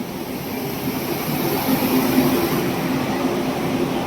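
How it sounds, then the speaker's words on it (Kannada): A train arrives at speed at a station platform in a steady, loud rushing roar with a low rumble of wheels on rails, continuous and close, and no voices over it. "ಟ್ರೈನ್ ಎಷ್ಟು ಸ್ಪೀಡ್ ಅದ ನೋಡ್ರಿ."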